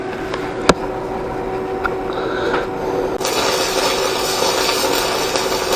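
An Everlast MTS 211si welder stick-welds thin metal with a steady crackling sizzle that grows louder partway through, after a sharp knock near the start, with no talking.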